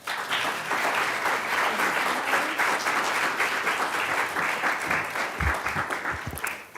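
Sustained audience applause greets FTC commissioner Rebecca Slaughter as she is introduced for a lecture, a steady dense wash of clapping that holds loud throughout before beginning to thin at the very end.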